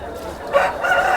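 Hens and roosters at a village livestock market, a brief rooster crow rising over a busy, noisy crowd with murmuring voices close by.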